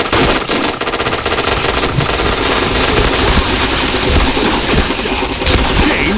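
Rapid automatic gunfire from a video game shooter rattles continuously and loudly, dense bursts layered over game effects with no pauses across the stretch.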